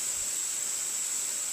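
Steam wand of a Vesuvius EVO Leva single-group dual-boiler spring-lever espresso machine with a two-hole tip, giving a steady, even hiss throughout at moderate level with no talk.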